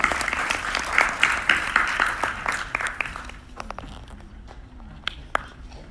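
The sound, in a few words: audience applause after panel discussion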